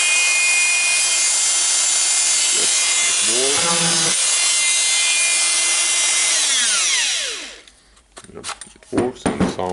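A repaired Makita 18V cordless angle grinder, running with no wheel guard after its melted carbon brush holders were replaced, whines steadily at high speed, then spins down with a falling pitch, followed by a few handling knocks.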